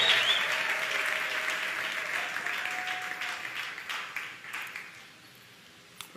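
A stadium crowd at a church campaign gathering of pastors in Brazzaville claps and cheers loudly, the applause gradually thinning out and fading to scattered claps by the end.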